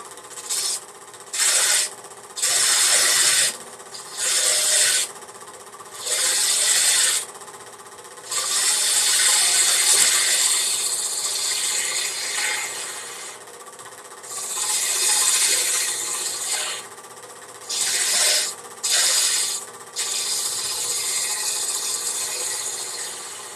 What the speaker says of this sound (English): I'm going to turn this away. So I'm going to use my little 3/8" bowl gouge.